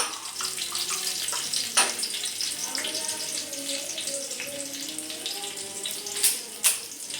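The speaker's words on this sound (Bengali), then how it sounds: "আর এখানে গোটা গরম মশলা ফোড়ন দিয়ে দিলাম" Whole garam masala and fennel seeds sizzle in hot oil for a Bengali chicken pilaf, giving a steady, moderately quiet watery hiss with a few sharp pops and faint talk in the background.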